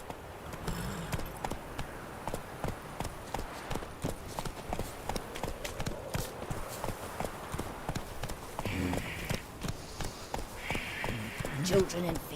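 A ridden horse clip-clops steadily along, its hoof beats sounding close and rhythmic, with voices talking over the steps and a little background noise.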